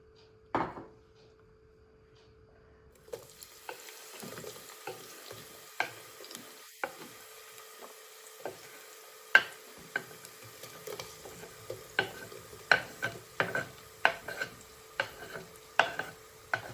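Onions fry in hot oil for chicken biryani, a steady sizzle that starts after a brief clatter, with repeated sharp ticks and scrapes from stirring rising over it.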